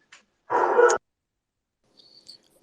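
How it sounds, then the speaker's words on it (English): A dog gives one short, fairly loud bark near the start, followed by a faint squeaky whine, against near silence. "that dog sounds like a lot of fun"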